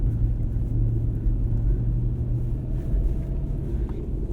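A 2006 Toyota 4Runner rolling through snow on Firestone Destination X/T winter tires, giving a steady low road rumble and engine drone heard from inside the cabin, with no talk.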